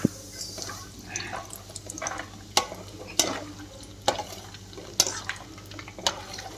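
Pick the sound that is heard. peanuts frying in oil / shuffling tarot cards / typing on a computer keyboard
peanuts frying in oil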